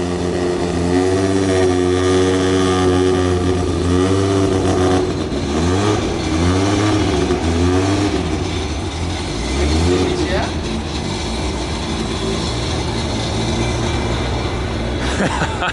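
A street car engine revs hard and close, the pitch climbing and falling in repeated sweeps over a steady loud rumble, with people talking over it.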